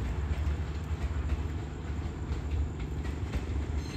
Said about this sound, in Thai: เสียงล้อกับรถกระทบรางนี่เพราะจริงๆนะครับ